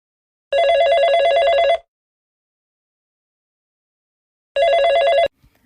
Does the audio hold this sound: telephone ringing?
yes